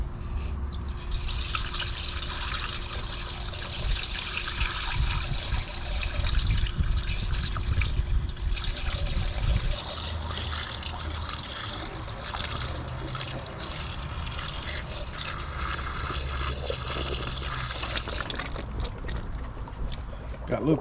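Dex Cool antifreeze poured into the cooling system of a 2004 Chevy Silverado, a steady close gurgling, splashing liquid stream lasting throughout with small drips and glugs, a faint voice occasionally underneath.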